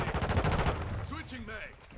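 Modern Warfare 2 gameplay opens with a rapid burst of automatic gunfire that fades after about a second. Game voice chatter and effects follow.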